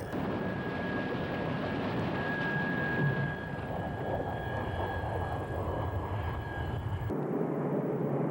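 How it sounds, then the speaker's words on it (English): A Russian MiG-29 jet crashing on takeoff, heard as a loud, steady roar of jet engine noise that fills the clip before cutting abruptly near the end. "Russian jets also have fire-resistant fuel tanks, which kept this MiG-29 crash on takeoff from exploding into a deadly inferno."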